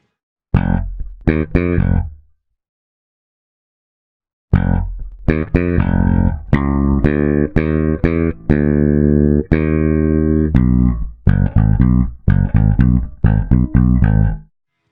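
A bright electronic melody of short, punchy notes, processed by a compressor with fast attack and 90 ms release so each note's onset stands out while its tail is evened; an opening phrase, a two-second gap, then a longer run.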